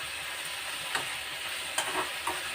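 Ponnaganti greens fry in a pan with a steady close sizzle, broken now and then by a few soft scrapes and taps of a stirring spoon, and no voices.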